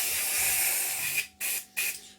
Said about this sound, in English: we just give the fan areas just a light spraying just to kill them down and give them more of a cooked look